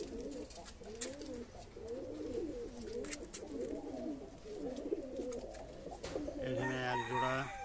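Breeding pigeons coo in a repeated, warbling rhythm, several throaty rolling calls in a row, fairly faint, with light clicks and a brief rooster-like call near the end.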